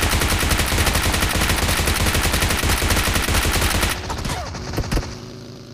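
Rapid automatic gunfire in the video game BGMI (PUBG), loud bursts of shots packed tightly together for several seconds, then cutting off into quieter scattered shots.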